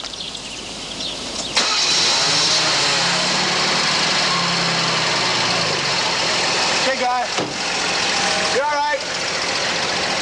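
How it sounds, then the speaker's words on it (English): A car engine catches and settles into a steady idle that fills the whole stretch, close and loud, with people talking over it. "let me start the car for you, guy"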